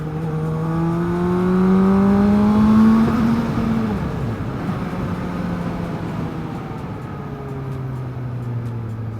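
A loud, rumbling Benda LFC700 motorcycle engine with a tone that rises and then falls, steady and close, with no talking.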